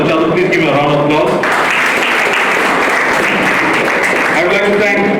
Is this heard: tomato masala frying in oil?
no